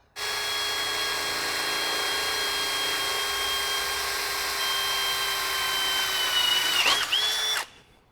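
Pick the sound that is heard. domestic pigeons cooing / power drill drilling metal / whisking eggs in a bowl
power drill drilling metal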